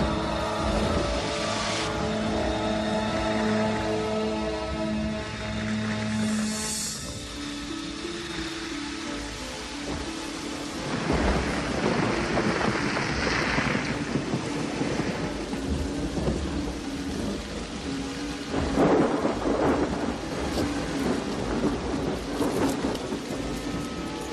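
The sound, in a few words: heavy rain showers and wind gusts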